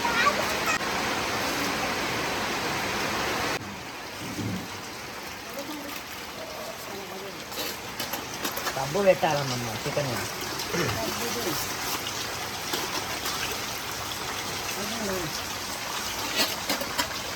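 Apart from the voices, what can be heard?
heavy rain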